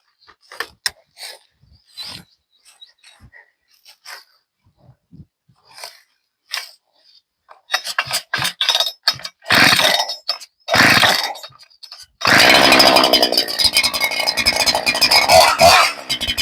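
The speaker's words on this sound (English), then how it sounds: "I'll start this chainsaw" Scattered clicks and pulls give way to a small Stihl G288 chainsaw engine catching and revving loudly, then running at a steady roar.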